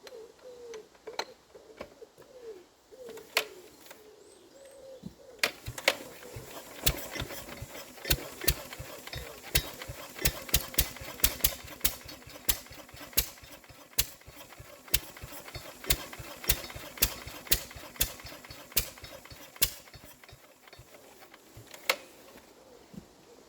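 A 1931 engine runs after its first start in decades, with a steady irregular train of sharp firing knocks and pops that are fairly faint and distant, building up after a quieter start with a few isolated bangs.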